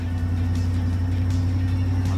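A pickup truck idling low and steady while backing a hay trailer, a constant droning engine rumble with a faint hum above it and no distinct revs.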